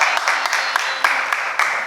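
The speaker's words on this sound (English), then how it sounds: "Can we get a round of applause?" An audience applauds a guest arriving on a show, a burst of steady clapping from a modest crowd heard close and filling the whole moment.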